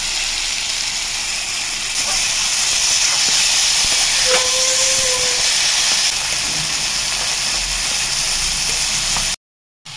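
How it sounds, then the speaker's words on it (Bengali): Spices sizzling in a pan with tomato and coriander leaves for ghugni give a steady, loud frying hiss throughout, with a brief tonal squeak midway before the sound cuts out near the end. "মশলাটাকে খুব ভালো করে ভেজে নিয়েছি"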